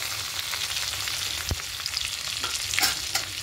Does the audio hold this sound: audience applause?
no